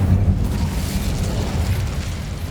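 A roaring burst of the Incendio fire spell in Hogwarts Legacy, a dense, loud rumbling blast that holds steady for a couple of seconds without fading.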